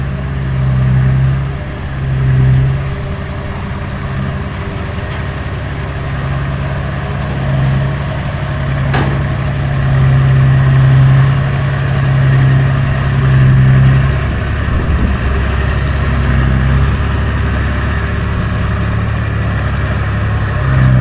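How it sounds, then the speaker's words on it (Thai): A backhoe excavator engine runs steadily with a deep, continuous low rumble and idling drone, close by, with dump trucks working at the site and no speech. "ตอนนี้ไม่ใช่ว่าจะได้เสียงเครื่องยนต์นะ ได้เสียงแมคโครเต็มเลย"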